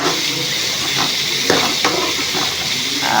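Sesame seeds, green chillies and garlic fry in a pan with a loud, close hiss, while intermittent scraping stirs cut through the crackle.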